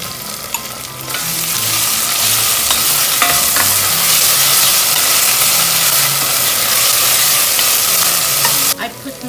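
About two tablespoons of tomato paste fry and get stirred in a pan on medium-low heat with butter nearby, making a loud, steady sizzle with soft scraping and stirring that runs unbroken for several seconds, up close.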